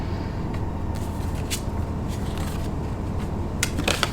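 A deck of playing cards is shuffled in a few short papery riffling bursts, the loudest near the end, over a steady low background rumble.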